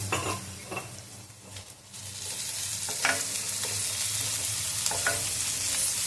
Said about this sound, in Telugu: అండ్ ఇప్పుడు బాగా మిక్స్ చేసుకుందాం.